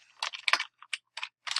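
Typing on a computer keyboard during college résumé instructions, close clusters of quick key clicks in short irregular bursts separated by brief pauses, with no speech.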